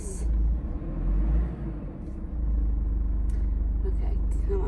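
Manual car pulling away as the clutch is released, a low engine rumble rising and then holding a steady drone, with a voice speaking briefly over it.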